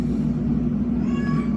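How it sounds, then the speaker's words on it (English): A cat meows indoors, a drawn-out, insistent cry heard fairly close, rising slightly toward the end over a low room hum. "Cat, be quiet."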